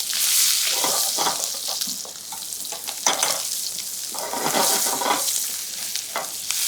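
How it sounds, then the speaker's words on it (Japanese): Thin steak seared in a pan over high heat, a loud, dense sizzle with bursts of spattering crackle that swells and eases across the whole stretch, no voices. "これで焼き色をつけてひっくり返します"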